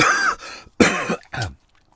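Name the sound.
cough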